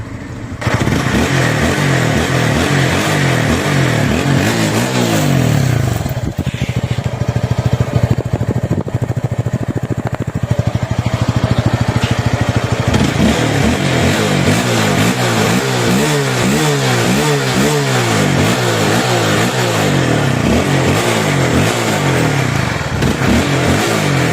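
A smoky-running motorcycle, suspected of a worn piston ring or valve seal, revs loudly and close by, with its engine note rising and falling through repeated throttle blips and a steady idle between them.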